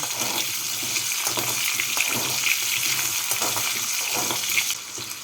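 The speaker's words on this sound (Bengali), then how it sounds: "আলুগুলোকে তেলের মধ্যে নাড়াচাড়া করে নিলাম" Potato pieces fry in hot oil while being stirred in a pan for a mixed winter vegetable curry, giving a steady, loud, close sizzle with scraping stir sounds throughout.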